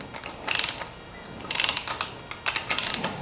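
Rocker arms on a flooded Mercruiser boat engine being tightened with a ratchet give short bursts of clicking in three uneven groups, close and fairly crisp, with no talking.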